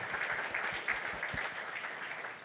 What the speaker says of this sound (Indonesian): Saya pengen dengar tepuk tangan orang yang percaya Bapak Ibu